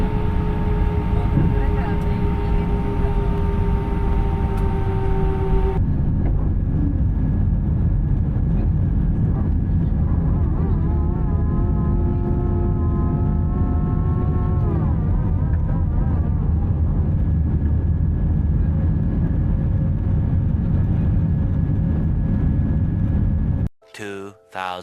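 Steady low roar of an airplane cabin in flight, with a broad constant drone and faint tonal hum throughout, a brief shift partway through and an abrupt cutoff near the end.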